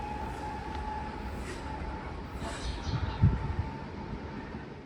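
Munich S-Bahn train pulling away from an underground platform near Ostbahnhof, a steady rumbling roll with a faint whine and occasional wheel clatter, fairly loud and close, with no voices.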